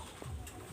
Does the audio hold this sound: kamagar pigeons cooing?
yes